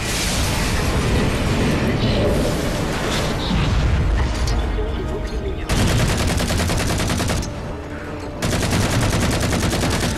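Grenade explosions and gunfire in Halo 4, a dense loud barrage of booms and rapid shots with two brief lulls between bursts, close and relentless throughout.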